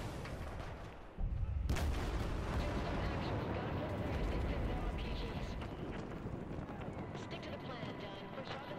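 Gunfire and explosive battle noise from the video game Battlefield 4, a sudden loud burst at about one second followed by dense, continuous combat rumble and shots through the rest, with some voices mixed in.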